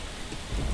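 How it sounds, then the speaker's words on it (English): Rain falls steadily on a planet in Space Engineers, a dense hiss with a low rumble swelling near the end, no voices. "Get out of this rain."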